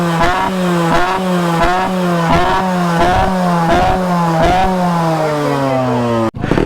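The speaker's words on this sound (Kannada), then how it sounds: "ಇದರಲ್ಲಿ ದಿ ಲೌಡೆಸ್ಟ್ ಬೈಕ್ ಇಲ್ಲೇ ಎಲ್ಲ ಸೈಡಲ್ಲಿದೆ" A loud Yamaha RX two-stroke motorcycle revs hard at a loudest-bike club competition in Bangalore, its engine blaring in steady pulsing bursts close up, holding high revs before cutting off abruptly at the end.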